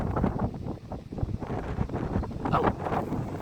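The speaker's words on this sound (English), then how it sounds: "But it is pretty windy." Strong crosswind buffets an outdoor microphone at a busy plane-spotting site, a constant loud rumble with gusty swells throughout and no speech.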